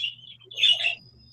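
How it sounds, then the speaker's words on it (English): Birds give a short burst of chirps and a squawk, close and fairly loud, alone over a quiet low hum. "except for the birds."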